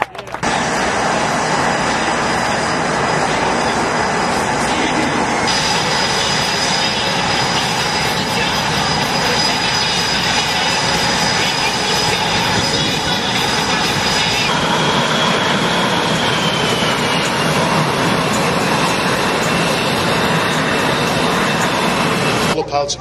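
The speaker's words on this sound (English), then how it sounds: "Pilots begin their takeoff maneuvers in a dynamic display of the thrust producer." Blue Angels jets take off at the MCAS Cherry Point air show, their engines roaring loudly and steadily throughout, with an announcer and crowd voices faintly underneath.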